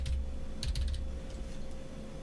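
Someone punching a two-factor authentication code into a computer keyboard: a few quick clustered keystrokes near the start and middle, then fainter taps, over a steady low hum.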